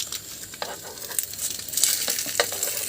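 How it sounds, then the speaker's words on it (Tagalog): An egg fries in a pan with steady sizzling and crackling, close and fairly loud, with occasional sharper pops and faint stirring scrapes. "At luto muna ako ng egg"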